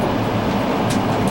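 Steady rumble of a train car riding through the Alps toward Salzburg, a continuous, even rolling noise with no voices.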